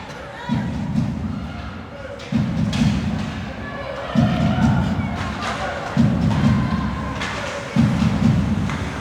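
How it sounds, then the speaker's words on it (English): A fan's drum booms in the crowd at a women's university hockey game, heavy thumps landing in a steady repeating pattern roughly every two seconds over a continuous crowd roar. "got a little drummer boy in the crowd here"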